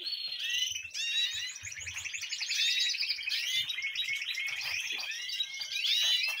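Young birds just out of the nest chirp in a breeding cage, producing a dense, continuous chatter of high-pitched tweets and calls, fairly close and steady throughout with no voices.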